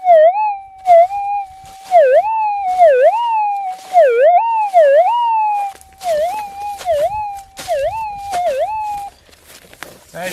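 A Minelab GPX metal detector sounds over a buried target while a prospector hunts gold nuggets in the Golden Triangle. About a dozen loud, close, warbling tones rise and dip in a steady repeating rhythm, with faint clicks and rustling in between.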